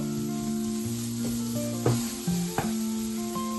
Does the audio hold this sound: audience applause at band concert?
no